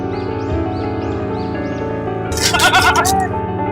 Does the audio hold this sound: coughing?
no